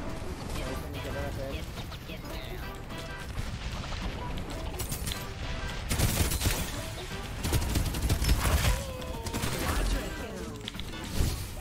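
Gunfire in the battle royale game Farlight 84, quick bursts of shots cracking out in clusters against constant game noise while players talk over the action.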